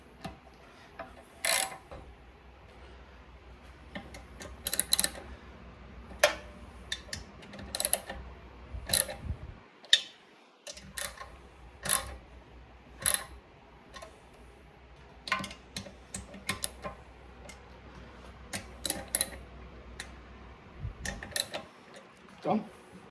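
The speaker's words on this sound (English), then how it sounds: "I'm going to tighten them up with the ratchet." A hand ratchet tightens the bolts on a Go Power Sports Rascal mini bike during assembly, giving repeated short bursts of sharp clicking pawl ticks with brief pauses between strokes, close and clear over quiet background hum.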